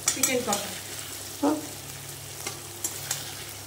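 Chicken kosha, home-style Bengali chicken curry, stirred and sizzling in a pan, with a few scraping stir strokes over steady frying hiss.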